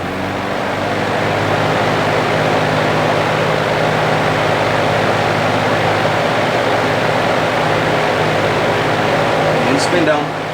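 An electric fan under restoration runs at its high speed setting, a steady loud whoosh of moving air with a constant motor hum that holds unchanged throughout, no other sounds on top.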